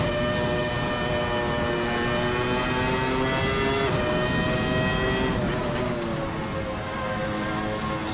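Ferrari F310b Formula One car engine in the VRC racing game, a loud, continuous high-revving wail with shifting pitch as it accelerates and changes gear, no talk.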